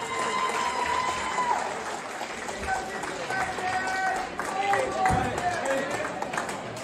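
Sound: crowd applause for a boxer

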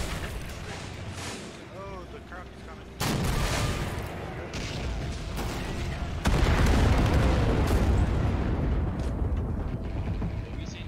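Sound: explosions in Men of War Assault Squad 2 video game

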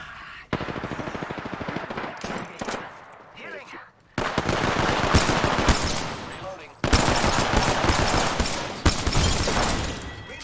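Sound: gunfire in a video game

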